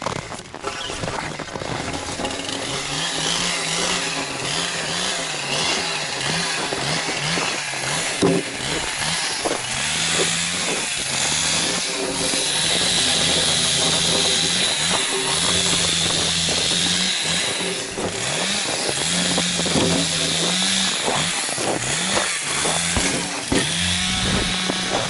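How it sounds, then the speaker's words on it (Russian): A chainsaw cutting firewood outdoors drones steadily throughout, with revving surges and rattling, close by and continuous with no talking. "Заливаю бензин, готовлю и начинаем пилить"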